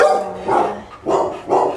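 A rescue dog barks close and loud, four sharp, full-bodied barks in quick succession with short pauses between them, with no talking.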